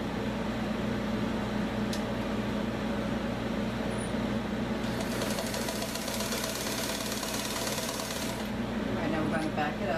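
Sewing machine stitching 18-inch doll pajama bottoms, a steady close mechanical whir that runs the whole time, with a brighter rattling stretch in the middle.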